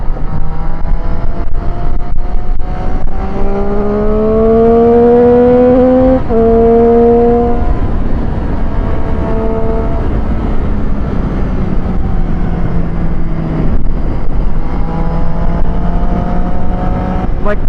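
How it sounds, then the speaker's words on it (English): Race car accelerating hard out of a corner in fourth gear, its engine note climbing in loud, close, rising sweeps with a gear change partway through, alone without talk. "you just roll right on the throttle and it just pulls you right through the corner"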